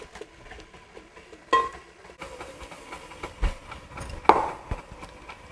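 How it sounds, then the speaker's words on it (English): A stand mixer churns cream puff choux dough on its lowest speed, producing a low, steady mechanical rumble with occasional clanks and knocks from the bowl. "It's on the lowest speed of this mixer"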